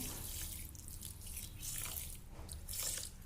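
Water poured from a bowl into a bowl of sugar for peanut katli syrup, a steady close trickle and splash lasting throughout with no voices.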